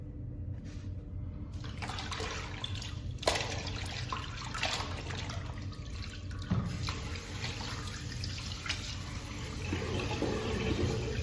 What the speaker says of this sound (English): I'm going to run a new basin of hot water here.